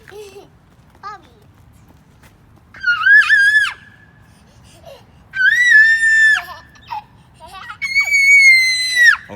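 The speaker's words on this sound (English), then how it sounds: "Can I show you how they can scream?" A young child's piercing screams ring out in three long, loud bursts, each held for about a second, separated by quieter stretches of soft babbling and faint background noise.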